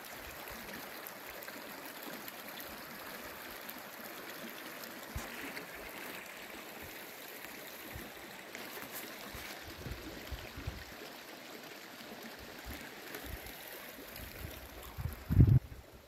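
A distant waterfall and flowing stream in the Venezuelan mountains near Mérida, heard as a faint, steady rushing wash throughout, with a brief louder bump near the end and no talk.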